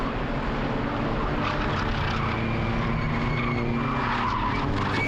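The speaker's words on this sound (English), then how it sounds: "Here a lot of tyre squeal" Swift Cup Europe race cars lapping the Hungaroring on a drying track, tyres squealing continuously over a loud, steady engine drone, close and sustained throughout.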